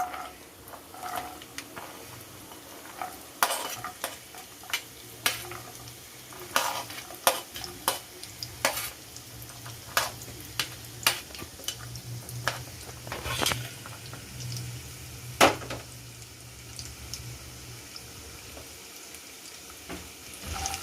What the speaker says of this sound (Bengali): এবার আমি গাজরগুলোকে প্রথমে ভেজে নিচ্ছি